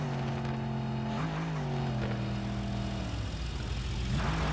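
Game car engine in Car Parking Multiplayer, a steady tonal hum that rises in pitch with each gear change, stepping up several times, clean and continuous with no talking.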